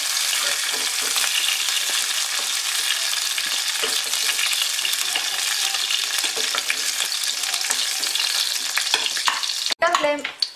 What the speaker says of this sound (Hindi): 2 मिनट इसे अच्छी तरह से हम फ्राई करेंगे